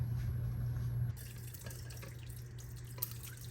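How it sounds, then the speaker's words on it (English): Homemade elderberry syrup liquid being strained into a container, a soft trickling pour with faint drips after a brief steady hum cuts off, quiet and close. "Now it's time to strain."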